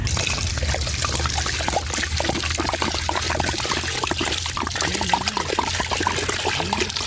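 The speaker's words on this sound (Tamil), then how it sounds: "கறிக்கறி தண்ணி ஊற்றுறோம்." Water pouring steadily into minced mutton in a cooking pot for kheema biryani, with yogurt, salt and ginger already added; a continuous close splashing trickle runs throughout with no talk.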